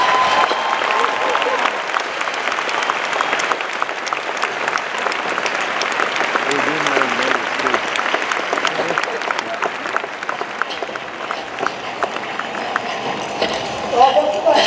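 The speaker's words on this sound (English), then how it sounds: "Give him a round of applause" Sustained applause from a large convention crowd fills the whole stretch, steady and dense, with cheering mixed in and a brief louder burst near the end.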